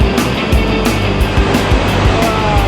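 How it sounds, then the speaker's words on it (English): A waterfall pours down in Kurobe Gorge, Japan, producing a loud, steady splashing wash of water close by, with rhythmic thumping impacts beneath it and no speech. "the waterfall coming down"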